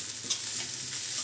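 Grated carrot lightly frying in a pan for a veg burger, a brief, steady close sizzle with a soft stirring tap, no voices.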